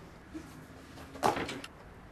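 A drawer or cupboard sliding open during a search, a short faint thump then a brief louder scraping rattle with a small knock after, in a quiet room.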